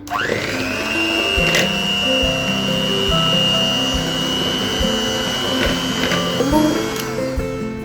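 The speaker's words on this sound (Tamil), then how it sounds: "பட்டர் ஆட் பண்ணிவிட்டு அதை கொஞ்சம் பீட் பண்ணி எடுத்துக்கலாம்" Butter being beaten for a moist chocolate cake batter with an electric mixer: a loud, steady motor whine that runs continuously throughout, with a few small knocks from the beaters against the bowl.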